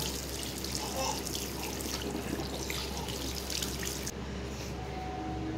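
Tap water runs steadily into a sink while someone washes their face at home, a continuous splashing flow that stays even throughout, with the stream easing slightly near the end.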